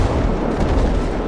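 Pirate ship cannons firing in GTA 5 roleplay during a broadside exchange: a brief burst of heavy, rumbling booms, loud and sustained, with no talking.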